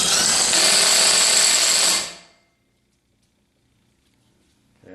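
Impact wrench removing the nuts from the end of a hydraulic cylinder rod, one loud continuous rattling burst for about two seconds that cuts off abruptly, followed by near silence.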